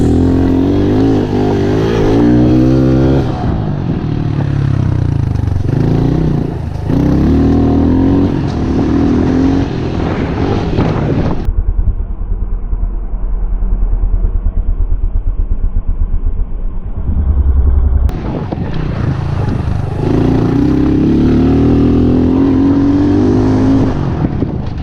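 A Honda CRF110F pit bike fitted with fat bars and triple clamps, riding with its small engine revving loudly and close, easing off to a low idle rumble in the middle before the throttle picks up again.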